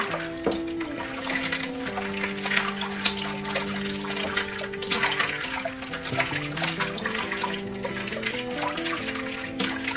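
Water splashes and sloshes in a big pan as lettuce, marigolds and squash blossoms are swished around, with music playing throughout.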